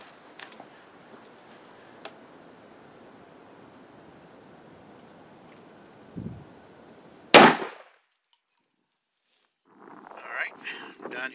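A single loud shotgun blast from a Mossberg 935 firing a Fiocchi 3.5 inch shell at a target 30 yards away outdoors, preceded by quiet wind, with faint voices after.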